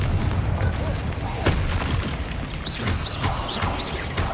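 Bombarda and Confringo blast spells going off in Hogwarts Legacy, dull booming impacts scattered through a busy combat mix with repeated short whooshing chirps.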